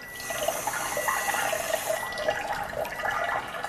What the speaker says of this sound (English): I'm also going to fill this with tap water